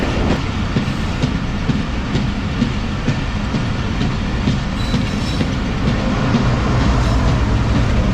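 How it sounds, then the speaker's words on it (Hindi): Inside the Jaffar Express passenger train as it runs past Yousuf Wala railway station, a loud continuous rumble with rhythmic clickety-clack of wheels on rail joints, no voices. "अभी ट्रेन हमारी गुज़र रही है यूसुफ वाला रेलवे स्टेशन से"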